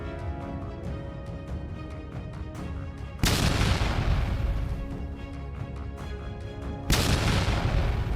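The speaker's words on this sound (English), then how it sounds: "Violent explosions caused massive destruction at enemy targets." Two heavy explosions from drone bombing, several seconds apart, each a sudden loud blast followed by a long rumbling decay, over a low tonal drone.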